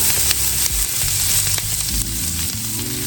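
Onions frying in a pan ahead of garlic and butter for a Salisbury steak gravy, giving a steady, loud, close sizzle with constant crackling and a few soft clicks, no voices.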